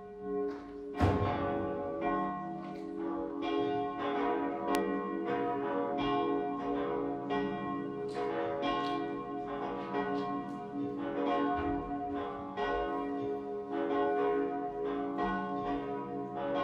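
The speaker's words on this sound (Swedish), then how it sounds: "Då ska vi strax lyssna till klockringningen." Bells of a cathedral ring for a fourth-Sunday-of-Advent high mass, a dense, continuous peal of overlapping strikes with long resonant decay, steady and fairly distant, with no voices.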